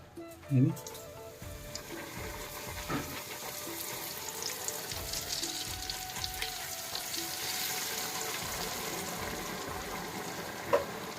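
Food frying in hot oil gives a steady, moderately quiet sizzle and crackle throughout, with a few brief clatters and a faint voice in the background.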